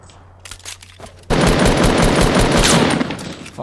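Video game gunfire: a few sharp isolated shots, then a loud sustained burst of rapid automatic fire lasting about two seconds, close and dense, with no talking.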